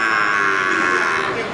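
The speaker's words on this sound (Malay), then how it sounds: "Ya, ini juga dari jenis sapi Aceh ya." An Aceh cattle cow moos loudly and close at a livestock market in Geurugok, one sustained low bellow filling the short clip without any talk.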